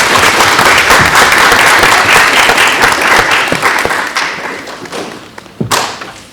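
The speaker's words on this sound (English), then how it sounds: "I'll give him applause too" Loud audience applause at a school board of education meeting, dense clapping that gradually thins and fades, ending with a few scattered claps and a sharp thud near the end.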